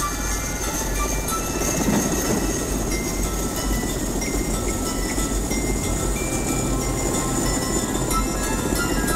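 A locomotive-hauled train rolls steadily along rails in a film scene, a loud continuous rumble with rhythmic wheel clatter and high metallic ringing, close and unbroken throughout.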